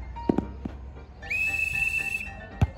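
Referee whistle in a football video game, one long sustained shrill blast in the middle, with a few short thuds before and after against a low game background.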